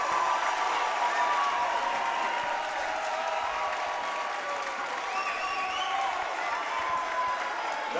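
A packed home crowd in a white-out arena applauds and cheers after a 79-62 women's college basketball win, a dense, steady roar of clapping and shouts that fills the whole stretch with no break.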